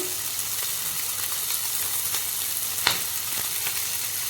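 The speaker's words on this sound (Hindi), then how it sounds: "गोटे रू 2 मिनट फ्राए करदे" Capsicum frying in a pan for chilli soyabean gives a constant close sizzle and hiss, broken by light scraping clicks of stirring.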